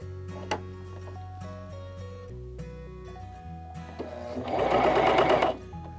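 A Janome CoverPro 3000 coverstitch machine stitches in short bursts, faint whirring and ticking at first, then a louder sustained run of rapid stitching for about a second before stopping, close by and alone.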